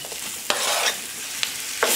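Onion, tomato and chorizo frying together for frijoles charros, a steady close sizzle punctuated by three or four crisp spoon scrapes as the mixture is stirred.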